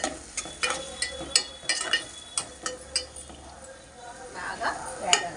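Three onions frying in a pan with a light sizzle for a potato korma, stirred with a utensil that gives repeated close scrapes and clinks against the metal, with a voice talking over it.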